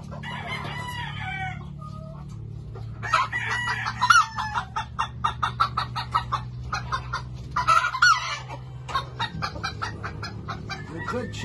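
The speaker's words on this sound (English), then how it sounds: "You're a good chicken" A chicken clucks in a run of short, rhythmic bursts with a couple of sharper squawks, close and fairly loud over a steady low hum.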